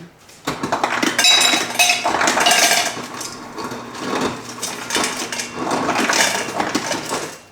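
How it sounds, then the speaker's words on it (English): Ice cubes dropped and tumbling into a cup for holiday drinks, a close burst of rattling clinks and crunching, then a second round of cubes clattering in. "I'm going to put some ice in here"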